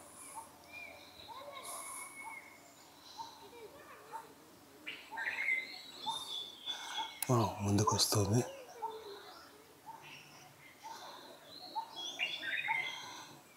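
A wild bird calls in the forest at Anantagiri, short chirping cries scattered through the clip with a louder burst near the middle, while a person talks quietly over the woodland ambience.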